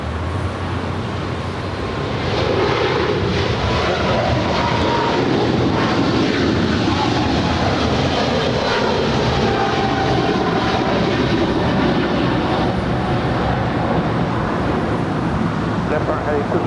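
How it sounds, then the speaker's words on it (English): A DHL Boeing 777 freighter begins its takeoff roll at LAX, a loud, building jet roar that rises after the first seconds and holds powerfully to the end, with voices talking over it. "We have a DHL 777 now rolling"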